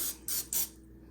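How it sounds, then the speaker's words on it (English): Non-stick cooking spray hissing from an aerosol can into a bundt pan, three short close bursts in quick succession followed by quiet. "go ahead and spray your bundt pan with some non-stick cooking spray"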